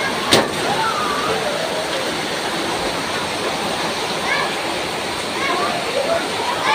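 Floodwater from heavy rain in Quezon City pours in as a steady, loud rushing and sloshing roar, constant throughout with no pauses.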